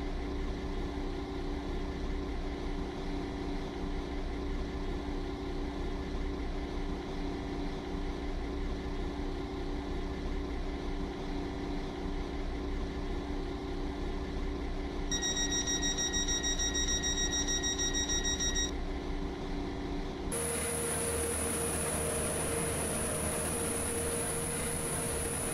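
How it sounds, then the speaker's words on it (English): Inside a Roblox railway game, a train sits idling at Morganstown station, a steady low engine hum with droning tones that continues alone, joined near the end by a brief electronic tone sequence and then a higher whine. "Welcome aboard this WaterLine train to Benton."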